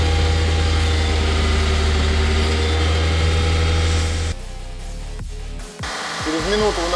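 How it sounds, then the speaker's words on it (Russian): Car engine running steadily, then revving during an exhaust temperature test, with a loud constant engine drone that breaks into shifting pitch sweeps and a brief dip near the end. "Сейчас он повысит обороты и будем смотреть. Так, начинаем газовать."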